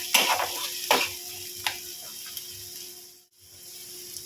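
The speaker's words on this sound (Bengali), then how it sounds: "এই পেঁয়াজটা যাতে ভাজা হয় তার জন্য নুনও দিয়ে দিলাম" Onion frying with salt in a pan with a steady sizzle, broken by a few sharp scraping stirs and a brief gap near the end.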